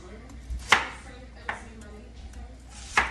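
Knife chopping vegetables on a cutting board for chicken soup, three sharp, spaced chops standing out over a low steady background hum.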